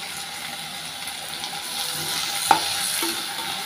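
Small onions frying in a pan for a greens chutney, a steady soft sizzle running throughout, with one sharp clink of a utensil against the pan near the middle and a brief scrape shortly after.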